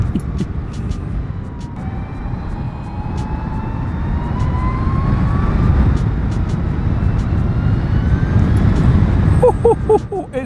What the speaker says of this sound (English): The motor on this bike is so powerful, so torquey